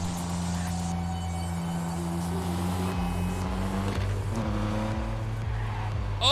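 In the video game Neverness to Everness, a car drives with a revving, shifting engine drone, then jolts and thuds as it crashes into things, with a sharp impact at the end.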